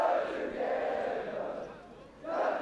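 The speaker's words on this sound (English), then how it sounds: "As we hear the rendition of the school song, from Paul Roos" A buoyant schoolboy rugby crowd of Paul Roos supporters sings their school song in a sustained, swelling mass of voices, rising and falling in volume and carried from a distance across the stadium.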